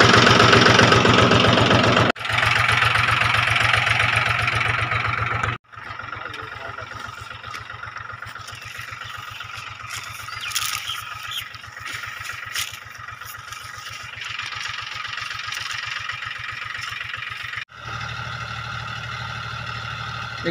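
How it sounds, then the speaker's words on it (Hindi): An old farm tractor's engine idles with a steady low chugging throbbing close by in the fields, broken by brief cuts, while someone talks at times. "ट्रैक्टर काफी पुराना है आप देख सकते होंगे"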